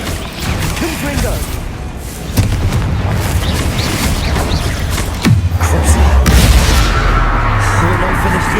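A Confringo spell explosion in the game Hogwarts Legacy, loud booming blasts over dense combat noise, with a deeper rumble surging in partway through and voices heard over the battle.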